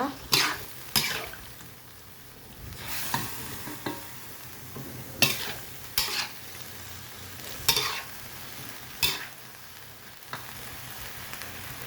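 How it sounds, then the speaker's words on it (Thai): Pork being stir-fried with soy sauce and bamboo shoots, soft sizzling under repeated scraping and clattering strokes of a spatula against the pan, spaced a second or two apart. "ผัดให้เข้ากันนะคะ"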